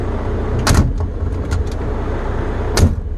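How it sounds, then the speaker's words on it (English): Door of a 2015 Volvo D13 truck cab opening, with two sharp mechanical clunks, one early and one near the end, plus a few lighter clicks over a steady low idle rumble, close by and with no talk. "this is how you open the door."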